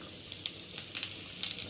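Whole cumin, bay leaves and dry red chillies crackle and sizzle in hot mustard oil for a khichuri tempering, a steady close hiss with small sharp pops scattered throughout and no talking.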